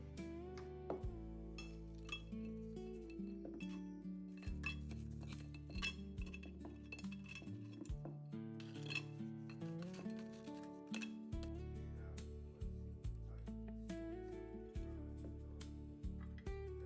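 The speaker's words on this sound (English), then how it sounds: "Then I pack them upright in a clean glass jar with a paper towel at the bottom to" Lentil crackers are packed upright into a clean glass jar lined with a paper towel. Repeated light clinks and taps of glass and brittle crackers ring out close by over background music, with no talk.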